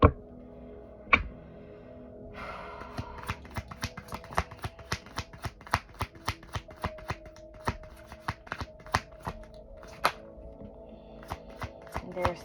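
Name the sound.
tarot cards being shuffled and drawn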